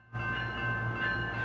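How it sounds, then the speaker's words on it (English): A light rail train idles at a station while its doors open and close, heard as a steady mechanical hum with tonal whine, close and continuous. "there's a train stopped at the station there and doors are opening and closing"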